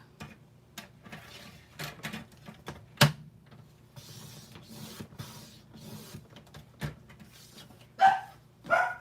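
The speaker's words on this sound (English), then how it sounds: "Y'all are going to get to hear the dog." A female dog barks a few times indoors, the short excited yips mixed with clicks and rustles from card making nearby, moderately close.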